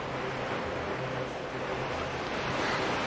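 Rising water in the Zelda: Wind Waker video game, a soft, continuous wash like surf with a low airy rumble, steady and fairly quiet throughout.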